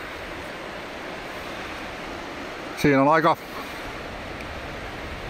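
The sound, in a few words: rushing water of Kattilakoski rapids, Tornio River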